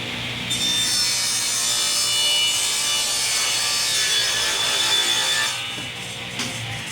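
A table saw with a miter gauge slices through a piece of wood, one loud, sustained cutting whine lasting several seconds up close, then winding down, with no voices.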